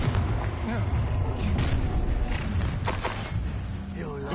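A Confringo explosive spell blast booms in Hogwarts Legacy during a fight with Ashwinders, a loud, rumbling burst mixed with whooshing spell effects and several sharp hits, with voices talking over the action.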